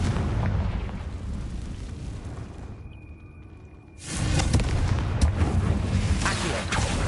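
A fiery Confringo explosion spell in a Harry Potter video game, with a loud rumbling blast that dips into a brief quiet, then a second heavy burst roaring back and sustaining to the end.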